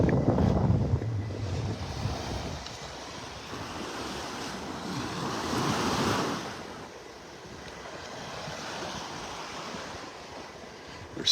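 Gulf surf washing onto Seagate Beach in North Naples, Florida, soft waves rolling in and receding in slow surges, mixed with wind buffeting the microphone, fairly quiet overall.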